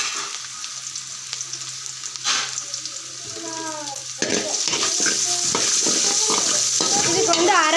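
Onions sizzle and crackle in a hot pan as they are sautéed and stirred for pasta. The frying grows louder and busier partway through, with a brief voice heard early on.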